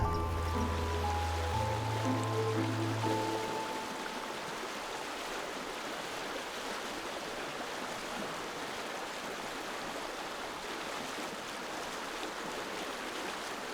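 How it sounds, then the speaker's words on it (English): The River Usk runs as a continuous broadband rush of flowing water that stays steady and moderately close throughout, with a low tonal hum overlapping during the first few seconds. "The beautiful River Usk."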